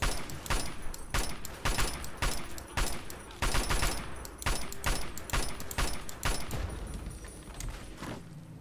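Bazooka and gunfire in the video game Fallout 3: rapid, sharp volleys of shots come in uneven bursts, loud and close, then thin out toward the end.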